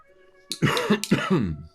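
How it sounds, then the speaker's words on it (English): Two harsh, hacking allergy coughs close to the mic, each a rough burst trailing into a throaty rasp, with near silence around them. "I'm still fighting allergies, so I apologize for the coughs and the hacks here."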